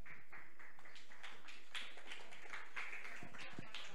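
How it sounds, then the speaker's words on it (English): A small audience at a casual nerd talk night gives thin, scattered applause, a few faint individual claps spread over several seconds with quiet voices in the background. "Thank you for that tepid applause"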